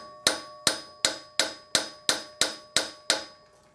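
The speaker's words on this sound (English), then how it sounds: "what I use first is the rawhide mallet to start to tap down the dents" Rawhide mallet tapping dents out of a brass bass trombone handslide, nine sharp evenly spaced metallic taps with a bright ringing decay, close and alone.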